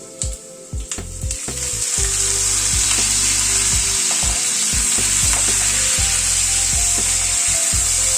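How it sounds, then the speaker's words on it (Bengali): Raw jackfruit pieces frying in a pan after potatoes, a loud continuous close sizzle with a few sharp knocks and scrapes of a spatula at the start, no voices. "এঁচড়টাকে দিয়ে এঁচড়টাকে একটুখানি ভেজে নেব।"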